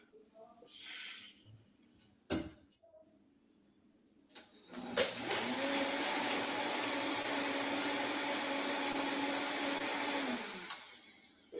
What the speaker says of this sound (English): Grinding their coffee grounds.